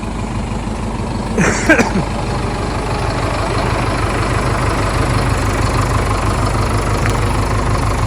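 A farm machine's engine idling beside a tractor in the field, a loud, steady low rumble that carries on unchanged, with a brief rattle near the start.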